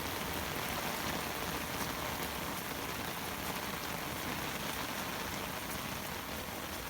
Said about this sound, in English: So these are my back beds in a normal rainstorm.